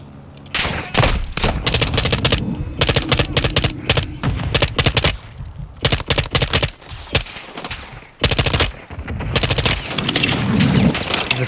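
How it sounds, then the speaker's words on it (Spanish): Rapid bursts of automatic gunfire with single shots from Call of Duty: Modern Warfare 2, loud and close, coming in repeated volleys split by short pauses. "Que vamos a echar plomo ahorita mismo"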